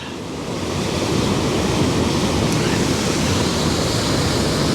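Broadband rushing water pours steadily and loudly from falls flowing on either side at a rugged landscape location, a dense continuous roar with no talk over it.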